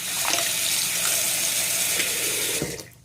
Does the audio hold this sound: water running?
yes